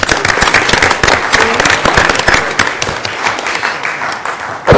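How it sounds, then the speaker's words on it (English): Loud, vigorous hand clapping from the audience at a city school board meeting, dense and continuous with sharp individual claps standing out, fading somewhat before a final loud burst at the end. "if you would please join me in a hand clap."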